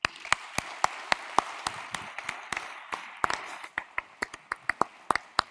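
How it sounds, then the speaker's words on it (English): After a conference panel on clean energy data, a small audience gives sparse applause: distinct individual handclaps ring out close and crisp over a soft bed of lighter clapping. "Let's give them a warm round of applause."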